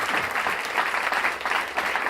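A full audience at a museum talk gives loud, continuous applause, dense clapping filling the whole stretch up close with no voices over it.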